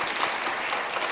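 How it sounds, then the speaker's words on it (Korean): Applause from a church congregation welcoming a guest during a Sunday service, a steady wash of clapping sustained at even loudness through the short stretch with no voices over it. "우리 다시 한번 박수로 환영하겠습니다"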